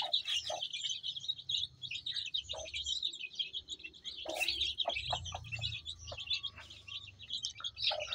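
Fighting cock chicks chirp continuously in a nest, a dense layer of high peeping from many birds, faint and close, with a few soft low rustles and knocks underneath.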